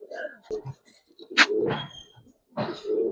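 Giribaz pigeons coo in short, soft bursts, with a few louder rolling calls close by and brief pauses between them.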